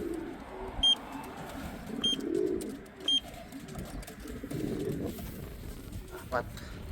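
Racing pigeons at a loft after a club training toss, giving soft low coos against a constant outdoor background, with a few faint high beeps and distant voices.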